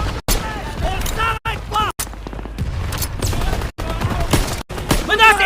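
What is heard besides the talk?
machine gun fire in the video game Call of Duty WW2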